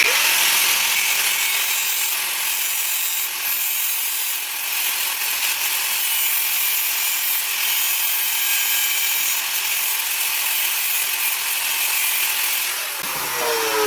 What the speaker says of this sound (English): It's just better to grind a slot in it and use a washer.